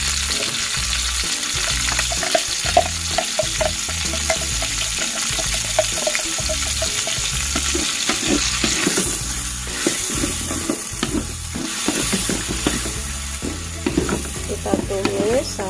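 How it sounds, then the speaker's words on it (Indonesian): Spice paste being sautéed with lemongrass, bay leaves and galangal for Indonesian chicken semur, a steady loud sizzle with repeated stirring scrapes and clatter throughout, no talking. "Kita masukkan serai, salam, lengkuas, salam, lalu bumbunya kita masukkan semua ya Bun."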